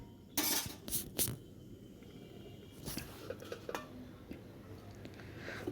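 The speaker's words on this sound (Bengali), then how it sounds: "এবার ঢেকে দেবো।" A lid set over a cooking pot of simmering prawns, giving a few sharp metallic clanks near the start and again midway, with light kitchen clatter between.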